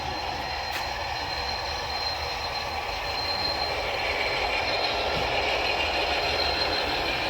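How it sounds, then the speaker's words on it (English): A model train runs through a finescale model railway display at a modeling center, giving a steady, continuous rolling rumble with faint metallic wheel noise and a high whine throughout, fairly quiet and without talk. "they added to it to have a train running through it"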